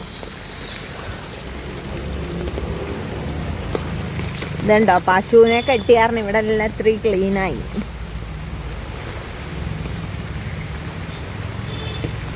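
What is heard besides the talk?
rain falling in the evening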